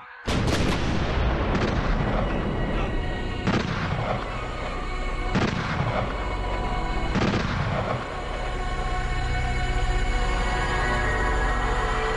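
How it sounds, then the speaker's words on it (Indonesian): Soldiers open fire in an Indonesian period film: a rapid volley of loud gunshots and artillery-like booms rings out at the start, followed by several more spaced blasts with echoing tails over a sustained rumbling background. "Pasukan! Tembak!"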